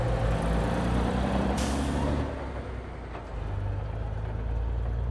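Garbage truck in a film scene pulling away, a deep rumbling diesel engine with a sharp hiss of air brakes releasing partway through, then the engine note dropping and continuing as it drives off.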